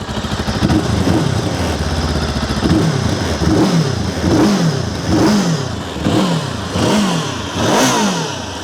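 A MUTT Stravaig 401 motorcycle engine is revved repeatedly up close, a loud throaty, raspy idle broken by about six rhythmic blips that rise and fall in pitch.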